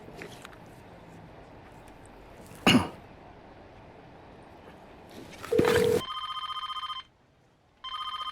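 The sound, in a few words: telephone ringing unanswered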